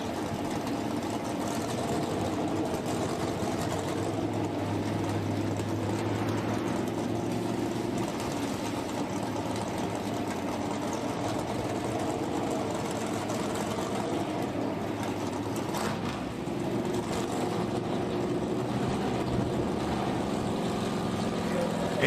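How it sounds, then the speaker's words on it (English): A Ford drag racing car engine at the US Street Nationals runs with a crisp, steady mechanical rumble that stays loud and even throughout, with a commentator talking over it. "Very, very crisp sounding engine there for Dylan Voss as Doug Nickel from Dearborn,"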